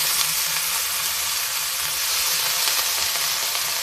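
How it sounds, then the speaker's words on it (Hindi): Onion frying in a hot pan for a chana dal kadhi gives a steady, close, even sizzle that holds throughout with no voices. "प्याज को भी भूनते हैं"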